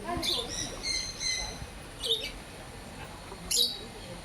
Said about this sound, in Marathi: अरे कसला भारी पक्षी आहे, गोड एकदम आहे.